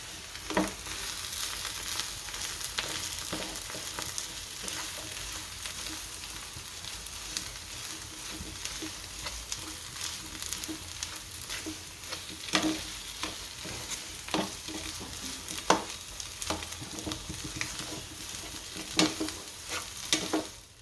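A spiced filling with dhana jeeru and salt for Gujarati papad rolls is stirred and mixed in a sizzling pan, a steady frying hiss under scattered spoon scrapes and clicks, close and continuous, with no voices.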